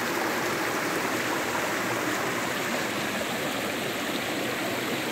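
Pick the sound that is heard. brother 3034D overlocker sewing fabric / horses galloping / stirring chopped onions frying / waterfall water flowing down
waterfall water flowing down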